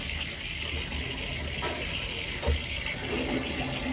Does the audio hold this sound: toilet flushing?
yes